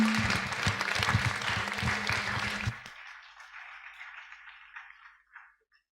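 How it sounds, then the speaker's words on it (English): A cinema audience at a screening night claps heartily with low rumble and handling noise for about three seconds, then the applause thins into scattered, fading claps that trail off to silence. "everyone, give a round of applause"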